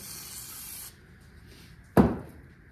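Lubricant sprayed from an aerosol can onto engine parts of a modified 351 during teardown: a steady hiss for under a second, then a quiet pause and a sharp, louder spray burst that fades.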